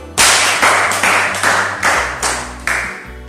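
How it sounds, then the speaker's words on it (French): A seminar audience claps in unison, six loud, sharp group claps spaced evenly about half a second apart, each ringing briefly in the room. "Applaudissez pour vous."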